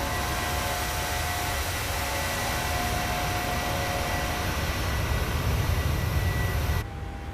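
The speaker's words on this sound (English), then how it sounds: "Plane is taken off." Cabin and engine noise of a PMDG Boeing 737-800 just after takeoff from Rio in a flight simulator, a steady broad roar with a faint whine, constant and loud before dropping slightly at the end.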